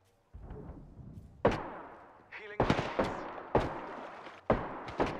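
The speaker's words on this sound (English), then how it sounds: "He's trying to shoot me through the wall." Loud, close gunshots from the video game Apex Legends ring out in separate heavy bursts, each followed by a decaying echo, with a short quieter gap between volleys.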